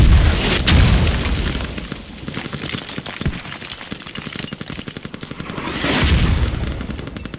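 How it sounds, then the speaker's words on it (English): Enemy mortar rounds in the Squad military shooter, heavy booms landing at the start and again near the end, with rattling gunfire and rumble between them. "that's an enemy mortar in front of the courtyard"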